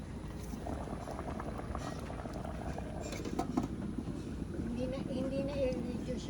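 Water boils in a pot while adobo-style eggs are being cooked, giving a soft, continuous bubbling and sizzling under intermittent nearby talking, fairly quiet throughout.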